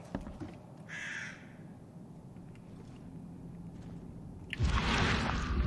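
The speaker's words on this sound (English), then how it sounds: "What's up with the bird?" One distinct crow caw in The Sinking City sounds over low, rumbling ambience, followed later by a louder wash of broadband noise.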